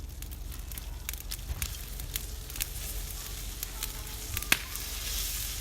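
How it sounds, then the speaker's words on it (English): A whole fish sizzles on foil over an open fire pit, a soft steady hiss broken by scattered crackles and pops from the flames, with one sharp pop near the end. "they've been sizzling away on this one side"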